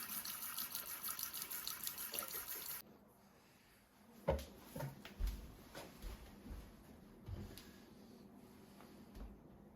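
Cold tap water runs from a faucet through a Waterdrop 15UA charcoal filter, a steady loud rush that stops abruptly after about three seconds, followed by a few scattered clicks and knocks in a quiet room.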